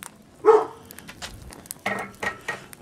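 A single sharp dog bark up close, followed by a few quieter yips and shuffling noises.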